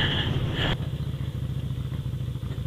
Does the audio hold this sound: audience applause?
no